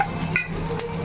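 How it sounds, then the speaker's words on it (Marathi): Fish coated in rice flour and spices hits hot oil in a pan, producing a short, close, bright sizzle with a little stirring noise. "आता आई सोडते मच्छी. फिश आपली गेलेली आहे फ्राय मध्ये"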